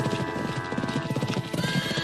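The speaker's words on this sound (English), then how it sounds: "I see Red riding in" A horse rides in with rhythmic clip-clop hooves, close and loud, accompanied by a whinny, in a playful Western cattle-drive scene.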